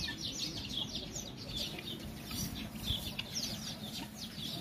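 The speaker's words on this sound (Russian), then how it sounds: "Петухи, голуби" Roosters and other fowl at a city zoo in Novosibirsk, with busy clucking and crowing-like calls over a steady outdoor murmur, moderately near and continuous throughout.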